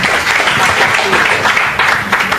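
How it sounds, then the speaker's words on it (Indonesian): An audience applauds during a talk event, a dense, steady wash of clapping from many hands, loud and sustained throughout. "Sekali lagi tepuk tangan biar tambah semangat."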